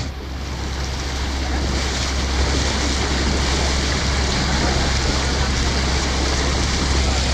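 A steady rush of water and a low engine hum come from a launch on a river in Rangamati, with a Chakma wedding boat passing close by. The sound is continuous and fairly loud, with no talking.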